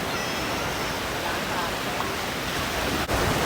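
Ocean surf rolls onto White Sand Beach on Koh Chang, Thailand, as a steady, close broadband wash of waves and breeze without a break.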